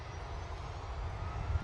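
Jet2 airliner departing Manchester Airport: a steady, broad engine roar from a distance, slowly swelling in loudness with low rumble, heard alone without talking.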